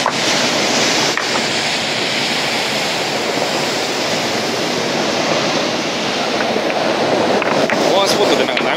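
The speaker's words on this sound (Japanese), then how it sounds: "波ね。" Ocean surf washes steadily onto the Nari-ishi pebble beach in Tohaku, Tottori, a loud, continuous roar of breaking waves and rumbling stones close by, with a few brief bumps in the wash.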